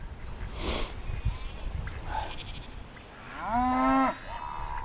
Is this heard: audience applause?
no